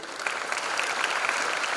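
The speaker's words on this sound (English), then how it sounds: "Let's have a big round of applause to all of you." Applause from a large audience at a university freshers' induction event, dense and continuous clapping at an even level throughout.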